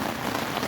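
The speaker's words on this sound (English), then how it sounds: "Listen to the falling rain. We're getting a little bit of a thunderstorm here." Rain falls on a tent during a thunderstorm, a close, dense patter of drops on the fabric that stays steady through the short moment, with no voices.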